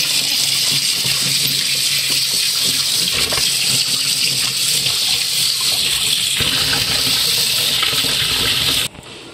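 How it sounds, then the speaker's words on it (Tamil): Fish is scrubbed with salt and a rough brush under running water from a tap. The water gushes loudly and steadily throughout, masking any finer scraping, and cuts off abruptly near the end. "இது மீன் கழுவுறதுக்கான ஒரு ரஃப்பான ப்ரெஷ்ஷு தனியாக வச்சுருக்கோம்."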